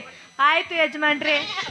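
In a village stage drama, a voice imitates a sheep's bleat, a wavering, quavering call in several bursts that blends with the spoken line, loud and close.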